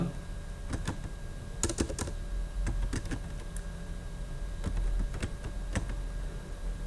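Typing on a computer keyboard while entering a formula in Excel: quiet, irregular bursts of key clicks, some in quick pairs, separated by short pauses over a faint steady hum.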